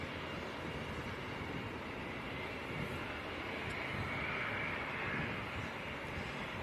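A small jet taxis at Leeds Bradford Airport, its engines giving a steady, loud, broadband roar that holds without a break, with a slight swell toward the end.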